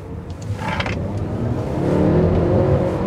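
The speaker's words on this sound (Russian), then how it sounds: "это, видимо, звук моторов" Polestar 1 electric car driving, a steady low motor and road hum that swells slightly as it picks up speed, with a faint whine above.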